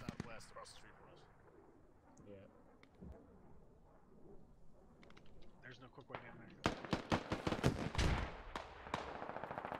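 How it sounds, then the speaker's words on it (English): Distant rifle fire in the military shooter Squad crackles sporadically, then builds into louder, rapid bursts of automatic gunfire near the end, with people talking over the top. "Looks like Viper or Cole taking shots back"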